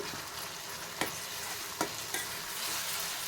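Tomato chutney frying and sizzling in oil, a constant close hiss broken by three sharp spoon-against-pan scrapes as it is stirred, no talking.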